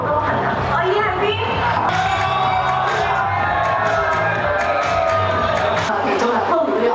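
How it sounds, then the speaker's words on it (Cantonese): A crowd at a TVB drama promotional event cheers and whoops, a dense, continuous swell of voices and shouts from an audience, with a few individual calls rising above it. "我哋再次俾啲掌聲"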